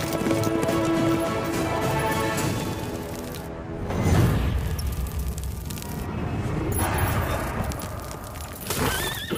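Horse hooves pound in a dubbed South Indian action film, with whinnies and a heavy rumbling gallop rising and falling over several seconds amid dramatic background sound.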